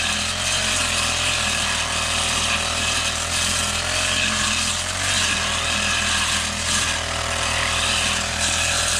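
Chainsaw cross-cutting wood on a farm, a steady loud high-revving drone held throughout, close and uninterrupted.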